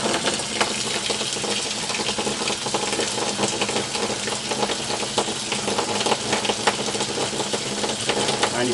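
Water runs steadily from an RV shower fed by a tankless water heater on house water pressure, a continuous broadband hiss and splatter that stays loud and even throughout, with no voices.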